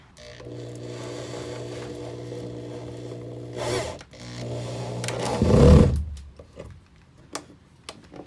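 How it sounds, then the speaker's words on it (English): A power drill whines steadily, drilling pilot holes through a van's metal body, pauses, runs again, then bites in with a louder grinding burst before stopping; a few sharp clicks follow. "to get through the metal, we're drilling pilot holes first"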